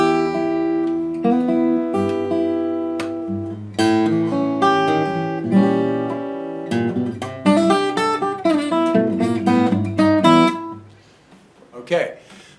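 A fingerstyle acoustic guitar plays a freely phrased melody over a bass line, with plucked notes ringing clearly up close before a few final notes sound together and fade.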